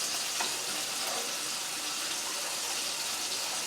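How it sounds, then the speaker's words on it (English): Red wine and brown sugar are stirred in a hot pan for a beef tenderloin gravy, giving a soft, continuous sizzle with faint liquid bubbling throughout, fairly quiet and with no talking. "And we're going to stir that around a little bit."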